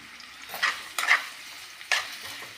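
Long-sliced onions stirred in a pan for a bitter gourd and okra sabzi: a few distinct scraping strokes with faint sizzle between them, close and otherwise quiet.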